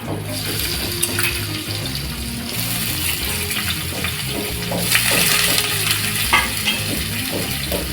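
Onion tossed into hot oil after garlic, a loud continuous sizzle with busy crackling and stirring, swelling briefly as the pieces fry close by.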